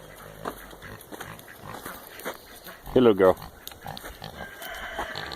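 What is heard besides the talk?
pig grunting on a farm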